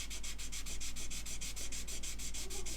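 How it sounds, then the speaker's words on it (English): Steady, rapid back-and-forth rasping of a 600 grit sponge sander on a 1/72 scale plastic model aircraft kit, a Curtiss H75 Hawk, close and continuous with no talk. "600 grit Infinity sponge sander."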